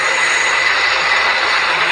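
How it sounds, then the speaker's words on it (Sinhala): A turboprop airplane engine in a flight simulator game drones in a loud, steady, unbroken hum with a bright whine on top and no pauses. "guys මේ තියෙන මේ ප්ලේන් එක එන්නේ බස්සා"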